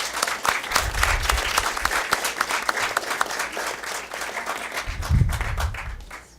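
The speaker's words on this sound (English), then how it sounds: "Give him a round of applause." Applause at a school district board meeting for a Calexico High School senior named student of the month, a dense steady clapping crowd in a hall that swells again near the end before fading.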